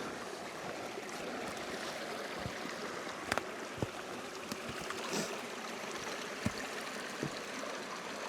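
A forest stream rushes steadily in the Riisitunturi fells of Finland during a hike, a close, continuous broadband wash of water with a few brief splashes and clicks on top.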